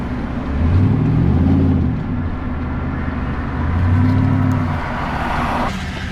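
A pickup truck drives in traffic, its engine humming low and steady with two swelling surges as it accelerates, heard up close and with no one speaking.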